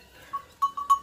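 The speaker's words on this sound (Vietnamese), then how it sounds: "Có cả dê này." A domestic goat in a highland village in Hà Giang, Vietnam, gives short, nasal bleats, about three or four quick calls close by with no talk over them.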